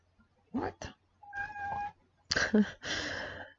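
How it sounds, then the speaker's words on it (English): A domestic cat meows and yowls indoors, several loud, drawn-out cries in separate bursts with short pauses between them, close to the microphone. "This cat is driving me nuts."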